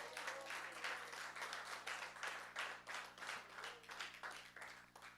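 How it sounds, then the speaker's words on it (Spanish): A church congregation claps during a sermon, a faint, distant wash of applause that swells and dips in uneven waves. "eso merece un aplauso a Dios"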